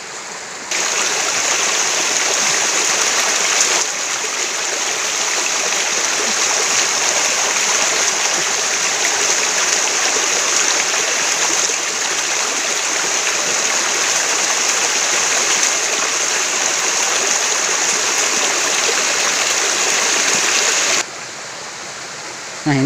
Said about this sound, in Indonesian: Kebetulan ini berada di pinggir kali kecil ya, di pinggir sungai kecil.